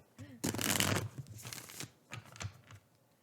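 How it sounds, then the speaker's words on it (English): Tarot cards being shuffled close by in several quick riffling bursts, a long crisp flutter followed by shorter ones, with brief pauses between. "So, I will do 3 shuffles."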